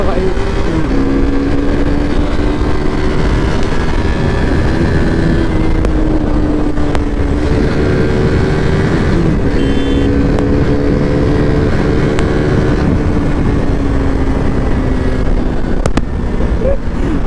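Motorcycles on an Independence Day group ride drone loudly and continuously up close, the engine pitch rising and falling steadily under heavy wind buffeting, with voices talking over the roar.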